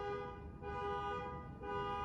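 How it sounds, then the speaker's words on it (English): A car horn honks in steady, sustained blasts with brief dips, fairly loud over background traffic rumble, with no talk. "Stop honking your horn"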